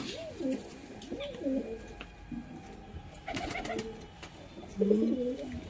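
A sturdy male Kashma pigeon, a high-flying Giribaz breed, coos in several rising, rolling calls close by, with quiet pauses between bursts and a louder final coo.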